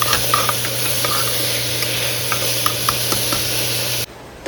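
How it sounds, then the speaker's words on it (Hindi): Food frying on a gas stove in an Airbnb kitchen while it is stirred, a constant close sizzle broken by scraping clicks and taps, cutting off abruptly near the end, with no one speaking. "भून रहा है"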